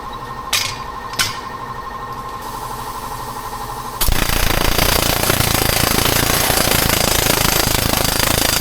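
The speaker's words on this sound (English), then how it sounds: "I'm gonna put the planishing hammer up here and see if I can't knock it out quite a bit faster." Pneumatic planishing hammer working a metal Ford truck front fender patch panel: a couple of sharp taps, then a loud, rapid continuous hammering buzz that runs steadily to the end, with no talk.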